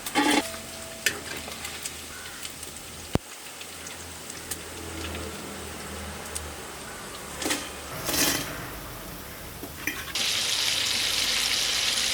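Fish sizzles in hot oil while being fried for fish pickle, with intermittent crackles and clinks of a utensil, the frying swelling into a loud, steady hiss near the end.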